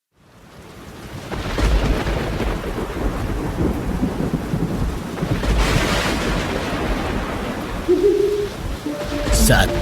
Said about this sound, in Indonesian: Saat badai di suatu malam